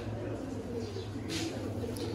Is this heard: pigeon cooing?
yes